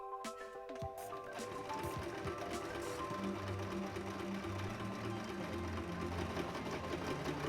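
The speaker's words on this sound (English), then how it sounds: "I'm going to sew the two front panels right sides together from the waist to the crotch" Sewing machine stitching the front trouser panels of an evening jumpsuit together from waist to crotch, a few brief clicks then a steady, fast, even whirring run of stitches close by.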